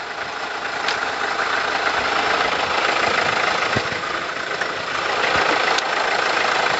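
A Hyundai Accent CRDI diesel engine, just serviced with EGR cleaning, runs steadily with a loud, close, rough clattering idle that stays constant throughout.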